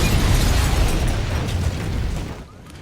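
A bomb blast set off by a tripwire in a film scene: a loud, sustained roaring explosion with dense rumble that holds for over two seconds, then drops away into quieter debris noise.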